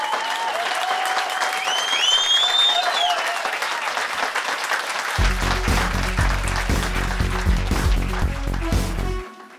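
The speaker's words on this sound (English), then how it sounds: "Give him a round of applause," An audience applauds with dense, lively clapping and a few whoops, then a thumping electronic music bed cuts in halfway beneath the clapping until both stop abruptly at the end.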